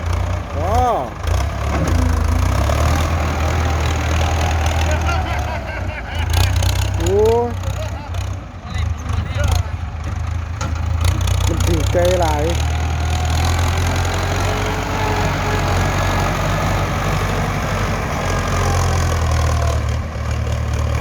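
A Ford tractor engine idles steadily in the foreground while pushing soil to build a rice paddy dike, a constant low rumble throughout, with occasional voices speaking over it.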